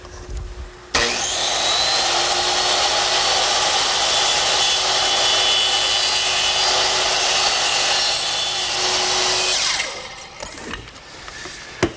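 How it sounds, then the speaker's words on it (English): Short angled freehand cuts in wood for a Shaker blanket chest: a loud, steady power-saw whine starts abruptly, runs for about nine seconds close by, then winds down into clatter. "Now I can remove the clamp and make these short angled cuts freehand."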